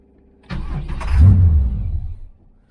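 A 1981 Camaro Z28 engine with suspected timing trouble and a rattle catches with a sharp start, runs roughly for about a second and a half, then sags and dies out to silence.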